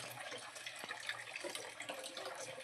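Tap water pours steadily into a bucket, a soft continuous splashing and gurgling stream heard faintly at a distance, with no clear talk over it.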